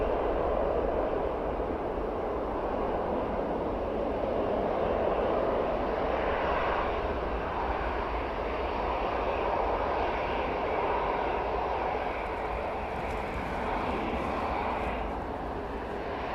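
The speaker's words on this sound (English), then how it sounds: "The Ethiopian A350 departure, absolutely stunning" An Ethiopian Airlines Airbus A350 departs Manchester Airport, its jet engines producing a continuous broad roar that stays steady and fairly loud throughout, heard from a distance with no talk.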